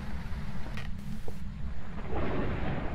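A thunderclap rolls through a lightning storm in the ghost-hunting game Phasmophobia, a low rumble swelling and fading over steady rain, with no talk over it.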